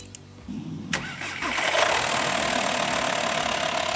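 Volkswagen Transporter T5 with a 2.5 litre diesel engine, battery disconnected, started using a jump starter booster; a brief cranking whir, then the engine catches and settles into a steady, close diesel idle.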